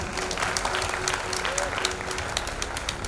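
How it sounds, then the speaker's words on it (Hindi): A crowd at a celebration in Mumbai gives loud applause for Dr Amol Kadam and Prashant More, a continuous, dense clatter of many clapping hands, with a faint whistle or tone running underneath. "तो एक बार डॉक्टर अमोल कदम सर और प्रशांत मोरे सर के लिए जोरदार ताली होनी चाहिए।"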